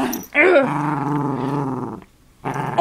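A toy poodle growls up close, a loud, sustained rumbling snarl that breaks off briefly and then starts again.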